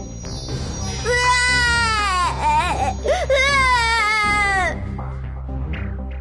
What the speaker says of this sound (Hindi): पालने में रखते ही बच्ची जोर जोर से रोने लगी